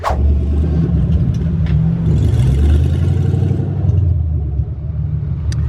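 An LS-swapped Chevy Blazer revving while driving, a loud close engine rumble with rising and falling revs over a couple of seconds, heard from inside the moving vehicle without talk.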